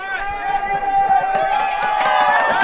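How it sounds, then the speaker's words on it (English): A packed crowd at a Sessions Field game lets out a sustained, swelling murmur of oohs and aahs with cheering and chatter, loud and continuous throughout. "The crowd oohs and ahs"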